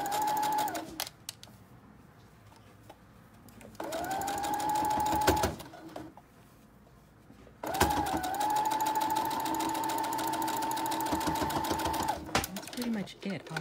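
A home sewing machine stitches a kids' cape in three bursts: a short one, a medium run and a longer steady run, each with brief quiet pauses between, and speech is heard in the pauses.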